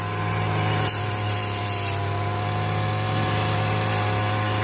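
A grass trimmer drones steadily as it cuts grass in Japan, a loud, close, continuous motor whine with no break in its pitch.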